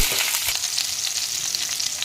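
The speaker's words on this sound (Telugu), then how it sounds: "తాలింపు గింజలు ఫ్రై అయ్యాక పచ్చిమిర్చి వేసుకుందాం." Hot oil sizzles and crackles steadily at close range as green chillies and tempering seeds fry, with a few brief stirring scrapes near the start.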